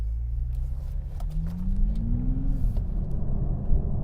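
A 2020 Toyota Supra sports car accelerating on the road, heard from inside: a deep, loud engine rumble whose pitch climbs steadily as revs build, then drops at a gear change, with no talk.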